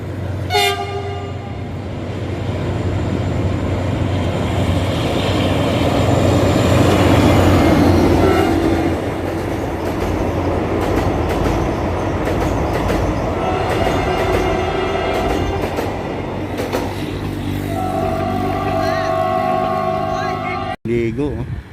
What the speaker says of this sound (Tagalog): Yung parating na tren.